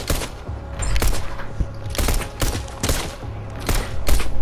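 Bursts of gunfire in the video game Doors, a series of sharp, fairly loud shots in uneven clusters about every half second to second, with no talk over them.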